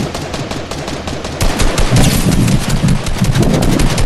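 Fortnite gunfire rattles in rapid automatic bursts, loud and close, with dense repeated shots running through the whole moment and no talking.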